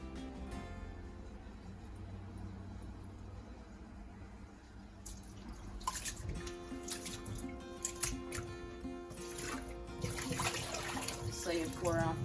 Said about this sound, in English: So you pour off that first water,